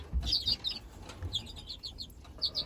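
Small greenfinches chirp in quick, bright bursts at close range inside a wire breeding cage, with soft fluttering and light thumps in the background.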